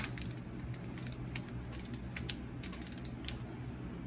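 A wrench snugging clutch bolts on a Foxbody Ford Mustang during a McLeod clutch and T5 bearing retainer install: faint, quick ratcheting clicks in short bursts against a quiet garage background.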